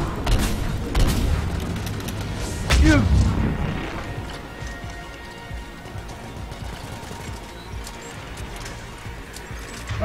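Gunfire while shooting an enemy in Mass Effect 3, with a dense burst of sharp shots and booms in the first few seconds fading into quieter scattered impacts and game noise.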